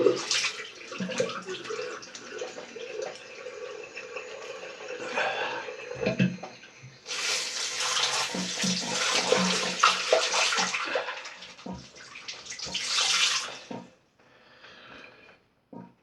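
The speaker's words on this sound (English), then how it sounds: "I'm going to drain the sink, guys. I'm going to get some clean water." A bathroom sink drains and refills with clean water during a shave with a vintage Gillette Toggle razor and shaving soap. Water rushes steadily and close by, swelling into louder bursts midway and near the end, then thinning out. No one speaks.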